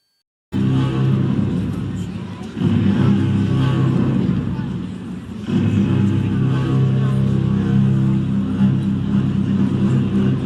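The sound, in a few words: truck driving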